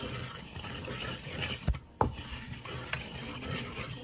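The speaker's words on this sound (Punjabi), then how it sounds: "ਸਭ ਤੋਂ ਪਹਿਲਾਂ ਇਹਦੇ ਵਿੱਚ ਥੋੜੀ ਜਿਹੀ ਆਪਾਂ ਖਸਖਸ ਪਾ ਕੇ ਜ਼ਿਆਦਾ ਨਹੀਂ ਭੁੰਨਣੀ ਹੈਗੀ" Poppy seeds being roasted in hot ghee in a pan for roasted chana laddu, a steady close sizzle with stirring scrapes and a brief pause partway, no talking.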